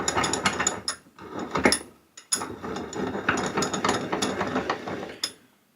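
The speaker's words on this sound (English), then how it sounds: "So here is the vice all installed, and it's nice and smooth. It tightens up nicely." The screw of a VEVOR 4.5-inch engineer's vice is being wound and tightened, making close, busy ratcheting and grinding metal clicks in two long runs with a brief pause between them, and no talk.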